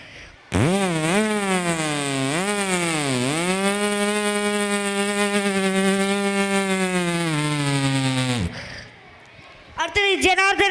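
A voice imitates a tree-cutting chainsaw with a loud, buzzing, engine-like drone that revs up and down in pitch before holding a strained, steady whine for several seconds, then cuts off abruptly.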